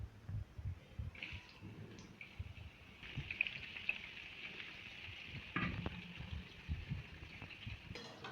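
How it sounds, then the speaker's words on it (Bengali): Mango pieces sizzle and fry in a pan with dried red chillies, fennel and cumin, a steady crackle with a louder burst midway and occasional stirring scrapes. "এটাকে এবার একটু আমি ভেজে নেব এবার আমি এর মধ্যে আমগুলোকে ছেড়ে দেবো"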